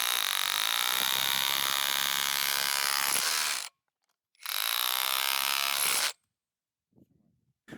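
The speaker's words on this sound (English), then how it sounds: "We start with the stone, and we see that the drill makes quick work of it." A cordless hammer drill, Parkside Performance PKHAP 20 Li B2, roars loudly breaking stone for about three seconds, stops, then runs again for another burst before falling silent, followed by a faint knock.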